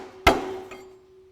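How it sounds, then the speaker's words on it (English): A spanner on a 1954 Ferguson TEA20 tractor's timing cover is struck by hand, giving one sharp metallic clink that rings briefly, then a fainter second tap, with no talk. "Hitting that spanner with my hand."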